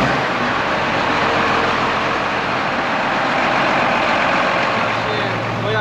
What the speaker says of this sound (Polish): Pierwsza przejażdżka ciągnikiem, wyjechaliśmy z warsztatu.